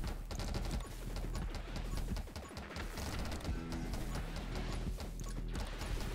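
Grenade launcher explosions in the video game 20 Minutes Till Dawn, a dense, continuous barrage of overlapping blasts and impacts at steady volume with game music beneath.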